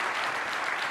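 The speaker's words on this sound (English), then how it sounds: "Give these folks a great round of applause" Audience applause after a keynote at a Java developer conference, dense steady clapping from a large crowd that fills the whole moment without letup.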